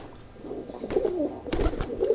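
Pigeons coo softly in low, rolling bursts, several overlapping calls close by with a faint rustle of movement.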